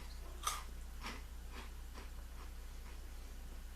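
Quiet crunching as dry Cosmic Brownies cereal is chewed, a few crisp bites fading into softer chews over a low steady hum.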